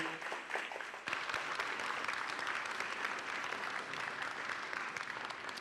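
A crowd applauds 8th graders at a school graduation ceremony, dense sustained clapping that swells after the first second and holds steady throughout.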